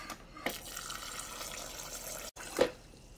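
Tap water running into a pot of rinsed rice, a faint steady flow with a couple of brief splashes and clinks, close by and without speech.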